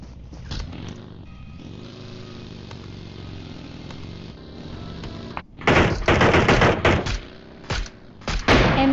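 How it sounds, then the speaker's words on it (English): Loud bursts of automatic and single-shot gunfire erupt in a battle royale video game after a stretch of engine-like rumble, the shots coming in rapid clusters up close. "We see some firing rounds between team 3 and 11."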